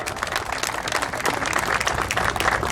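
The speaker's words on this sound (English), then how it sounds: "Let's give him a round of applause" Outdoor crowd at a car show honorees tribute applauding steadily, a continuous wash of clapping heard alone without speech.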